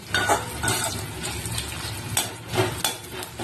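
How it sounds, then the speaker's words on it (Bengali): Onions sizzle gently in a pan while a utensil scrapes and stirs in a few distinct strokes, no talking. "পেঁয়াজগুলো লাল লাল করে ভেজে নিই"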